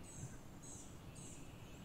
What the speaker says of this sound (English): I don't remember it sounds like a bird chirping or anything in the beginning.